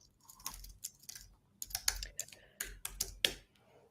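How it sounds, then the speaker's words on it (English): Names being typed into a giveaway program on a computer keyboard: close, quiet bursts of rapid key clicks in irregular clusters separated by short pauses. "Tam is busily typing in people's names into our giveaway machine."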